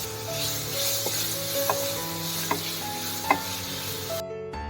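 Tomatoes fry in a pan with chili powder and meat masala for a beef skin dish, a steady loud sizzle with a few sharp clinks of a utensil stirring, ending abruptly.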